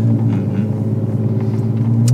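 Deep, steady engine rumble from a Ferrari 812 Superfast with Novitec modifications, close and loud, swelling slightly toward the end with no talking over it.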